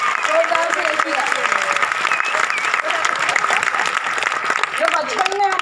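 An audience at a Dadar lifestyle event claps continuously, a dense, even wave of applause from many hands that holds steady from start to finish with no break.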